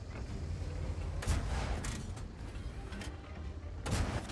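Tank cannon shots in World of Tanks, played from an AMX 13 75 light tank: a few loud booming blasts with long rumbling tails over a steady low engine drone.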